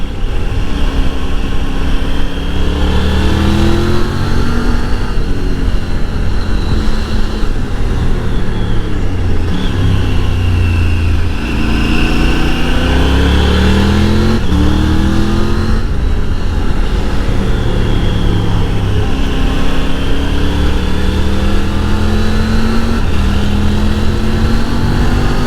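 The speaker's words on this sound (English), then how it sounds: "let you enjoy the sound of the Tiger Triple" A Triumph Tiger three-cylinder motorcycle ridden along a road near Lake Coeur d'Alene in North Idaho, its engine droning loud and close with repeated rising and falling pitch sweeps as the rider shifts through gears, wind noise beneath.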